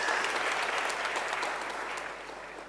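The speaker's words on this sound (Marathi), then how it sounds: "आता टाळ्या." A lecture audience gives sustained clapping from a large crowd, dense and even at first and slowly fading toward the end, with no voices over it.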